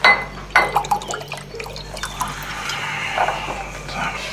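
Water is poured into a glass: a clink of glass at the start, then a burbling, rising trickle of liquid close by, with faint voices in the background.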